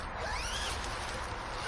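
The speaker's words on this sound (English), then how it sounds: "You want to make sure that the door is zipped shut." A tent door zipper on a Six Moons Designs Lunar Solo ultralight tarp tent is drawn shut in one steady, close, continuous zip with no voices.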